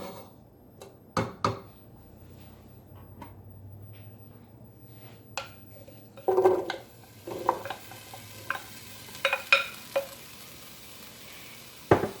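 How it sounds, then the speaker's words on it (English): Butter melting in a pan over a medium flame gives a soft, low sizzle, broken by scattered clicks and taps of a utensil against the pan. "I'm just going to melt this butter."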